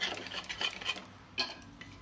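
Puri flipped in a frying pan with a spatula, giving a few quick metallic scrapes and clinks against the pan over a soft steady sizzle of frying oil.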